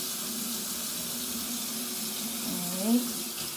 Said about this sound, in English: I'm gonna go ahead and wash my hands thoroughly